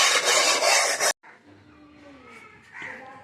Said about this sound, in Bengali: ভেতরটাও আমিও বালি দিয়ে মাজি